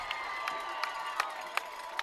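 Crowd noise at a high school football game after a touchdown, a steady distant roar of cheering with a few sharp shouts or claps popping out at regular intervals.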